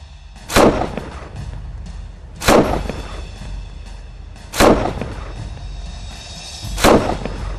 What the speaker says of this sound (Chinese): 狙击步枪号称小型远程火炮，我们这样干。